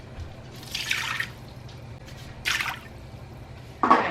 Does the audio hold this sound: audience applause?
no